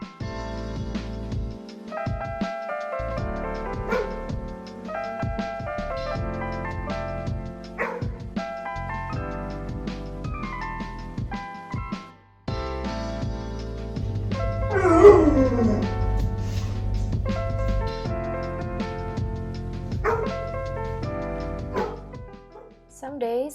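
A pitbull puppy barks, yips, whimpers and howls excitedly in a near, continuous run of loud vocalizing indoors, with rising howl tones in the middle and background music or other sound underneath.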